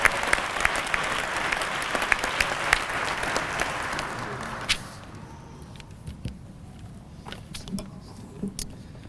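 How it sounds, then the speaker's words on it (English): An audience at a police recruit graduation ceremony applauds the valedictorian, dense clapping for about five seconds that then thins out to scattered claps and shuffling footsteps. "Let's give Officer Rolfe a warm round of applause as he comes forth to present his valedictorian address"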